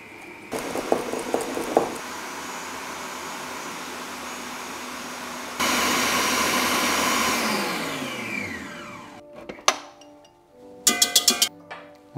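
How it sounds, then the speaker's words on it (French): Electric mixer whipping egg whites for a lactose-free vanilla quince entremet, a steady motor whir that jumps up in speed, then winds down, followed by a few clinks against the bowl. "On va commencer par monter les blancs."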